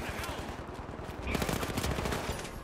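Rapid automatic turret fire in the video game THE FINALS, a steady stream of close gunshots that grows louder midway, with a voice briefly under it.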